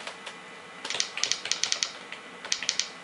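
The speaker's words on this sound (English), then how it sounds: "it's pretty cumbersome to type out full documents with this keyboard" Keys clack on the small keyboard of a FAVI Entertainment W3 WiFi pico projector, an uneven burst of crisp close taps alone with no talk.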